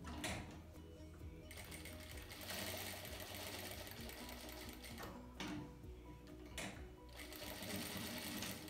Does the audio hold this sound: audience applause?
no